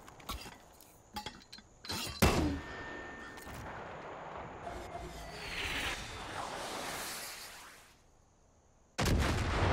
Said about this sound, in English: I love the mortars, so much fun.